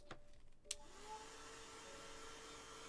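A hair dryer blows steadily on a gouache painting of a pink teapot and macarons, starting with a short click and then a constant whooshing drone that stays close and even, with no talking.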